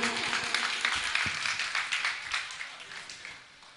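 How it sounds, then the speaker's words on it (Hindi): Congregation at a Jain religious discourse led by a nun claps together in a dense, moderately loud burst of applause that gradually thins and fades toward the end. "आप ताली बजा दो"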